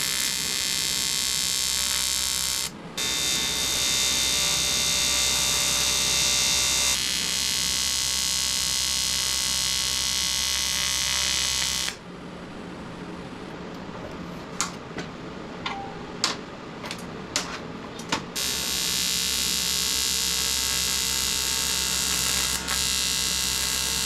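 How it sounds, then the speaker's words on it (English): A TIG welder runs on aluminum intercooler piping for a Honda, giving a steady loud electric buzz and hum that cuts out briefly and then resumes, with a quieter gap of ticks and clicks in between. "It's been a while since I welded aluminum"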